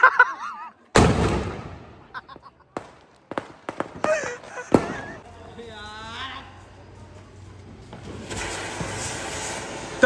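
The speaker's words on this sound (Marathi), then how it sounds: "हे सगळे प्लॅनिंग करून माझ्यावर फटाका फोडणार होते" Several sharp Diwali firecracker bangs go off in quick succession, close and loud, followed by a whistling burst and crackling as people talk and shout nearby.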